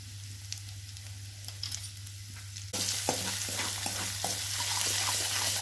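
Chicken curry mixture with salt being stirred in a pan for a restaurant-style curry, with close scraping strokes over a steady low hum, growing louder and sizzling more halfway through.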